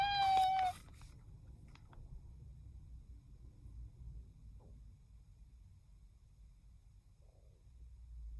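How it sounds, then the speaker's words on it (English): A single short, high meow from a cat at the start, followed by quiet low rumbling background. "following the cat's meow"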